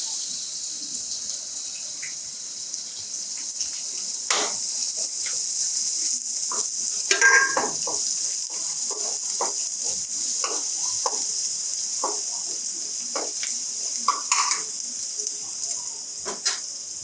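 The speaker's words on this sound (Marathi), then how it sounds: "आता एक कांदा टाकते फोडणीला" Onion dropped into hot tempering oil with curry leaves, ginger and garlic for Maharashtrian cabbage bhaji, giving a steady close sizzle with scattered crackles and a few stirring scrapes throughout.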